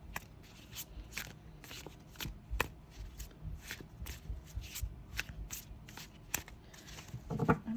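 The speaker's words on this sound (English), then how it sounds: "I'm going to give it a couple more shuffles." Repeated crisp riffling of a tarot deck being shuffled, in quick bursts with short pauses between, close and fairly quiet, with no talking.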